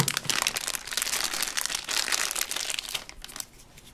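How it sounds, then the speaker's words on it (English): Play-Doh tub packaging crinkles and crumples as it is unwrapped, a close, busy plastic rustle that runs steadily for a few seconds before thinning out toward the end. "So first, we're gonna unwrap the Play-Doh."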